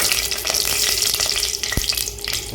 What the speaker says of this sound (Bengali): অয়েল আমার হিট হয়ে গেছে তো প্রথমে আমি ড্রাই চিলি দিয়ে দিলাম